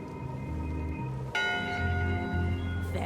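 A ship's bell on a pirate ship in Return to Monkey Island rings clearly, a bright ringing strike whose tone hangs and decays over low background music.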